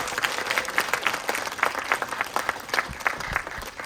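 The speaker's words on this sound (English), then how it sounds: "So let's give another round of applause." Applause from an audience at an astronomy talk event in a planetarium, steady dense clapping throughout with small swells, moderately loud and without talk.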